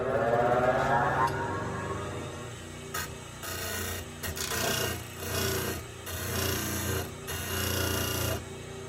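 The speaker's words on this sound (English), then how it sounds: "So I'm going to come over here to my sander and make it perfect." A sander works over wood with 120-grit paper, smoothing away saw marks on a cut board for a mid-century dining room table, giving a steady close rasping hum that swells and dips in several passes.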